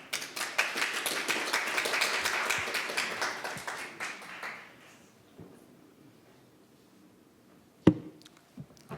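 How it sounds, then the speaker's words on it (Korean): Conference audience applause welcoming student presenters at a payments talk, a lively burst of many clapping hands that fades out by about five seconds, leaving near quiet with a single sharp knock later. "여러분 큰 박수로 맞이해 주세요"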